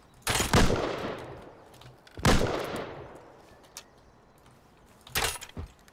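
Three separate loud bursts of gunfire in Rust crack out at intervals of about two seconds. Each blast decays into a long echoing tail, as if fired nearby in open terrain.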